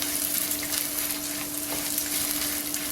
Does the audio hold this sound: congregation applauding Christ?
no